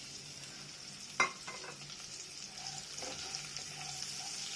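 Chopped onion hits hot oil with asafoetida in a pan, a sharp clatter of the spoon followed by a steady, close sizzle and light stirring.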